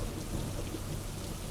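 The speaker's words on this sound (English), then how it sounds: "Do you think this rain will stop soon?" Steady, dense rain hisses throughout with a low rumbling undertone of thunder, constant and fairly loud, with no voices.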